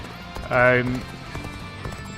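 Galloping horse hooves clatter in the video game Dynasty Warriors: Origins, a quick run of close clip-clop beats with a louder swell near the start, alongside game music and effects.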